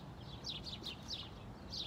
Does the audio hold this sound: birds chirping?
yes